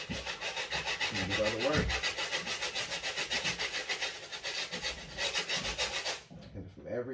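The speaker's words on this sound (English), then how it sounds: "Then we go to our stiff bristle." A stiff bristle brush scrubbing a Yeezy 350 Zebra sneaker in a rapid rhythmic back-and-forth scratch, close and steady, stopping abruptly near the end, with someone speaking briefly over it.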